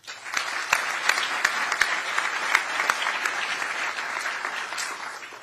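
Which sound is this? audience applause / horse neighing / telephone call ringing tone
audience applause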